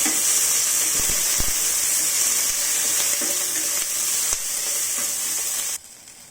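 Green chillies fry in oil in a pan for a village-style gongura chutney, giving a loud, even sizzle with a few pops that runs on and then cuts off near the end, no voices.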